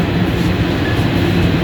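A Toronto subway train heading towards Finch rumbles along steadily, with a dense, loud, continuous roar of wheels and car noise heard from inside the moving carriage.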